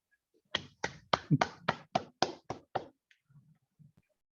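A handful of sharp, separate claps from an online meeting audience, about nine distinct hits in an uneven rhythm, close and dry, trailing into a few softer taps.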